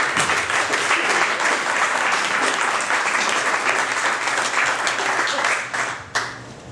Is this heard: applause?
yes